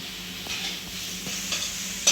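Onions and garlic paste frying in a pan and being stirred, a steady close sizzle with a few scraping stirs, ending on a louder scrape.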